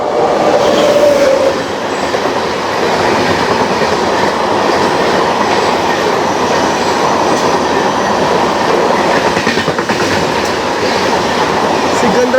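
Secunderabad Guntur Intercity Express train passing close by near Vijayawada, a loud, steady rumble of wheels and carriages with faint clickety-clack, continuous throughout with no voices.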